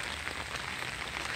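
Rain falls in a leafy park, a dense, even patter of drops on the surroundings that is fairly soft and continuous.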